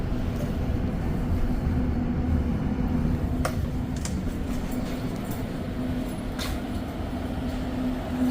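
REM light rail train at McGill Station in Montreal, arriving by the opposite track from the Mount Royal Tunnel, gives a steady close rumble with a few sharp clanks and squeaks over it.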